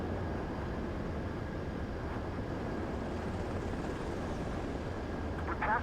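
Jet fighter on final approach to a runway in Ace Combat 7, a steady broad engine roar holding level throughout with no voices, swelling slightly at the very end.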